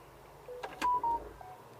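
Telephone keypad tones sound as a short burst of a few clean beeps, close and fairly quiet, in an old bungalow just before a call is placed.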